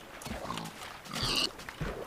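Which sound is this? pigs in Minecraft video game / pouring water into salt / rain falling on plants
pigs in Minecraft video game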